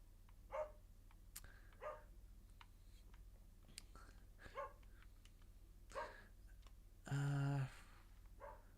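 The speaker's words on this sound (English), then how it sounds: "My dog won't bloody shut up. He's just barking away there." Dog barking in the background, several faint, spaced single barks at irregular intervals, with one louder, longer burst partway through, heard under a quiet voice.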